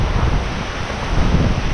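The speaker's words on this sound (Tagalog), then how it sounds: "Grabe naman yung hangin na yan." Strong wind blasts across the microphone as a loud, steady, rushing roar for the whole moment, with no voices over it.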